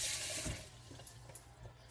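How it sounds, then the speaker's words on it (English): Tap water running in a kitchen sink as hands are rinsed under it, a soft steady splashing rush close by that eases slightly over about two seconds. "So let me rinse my hands"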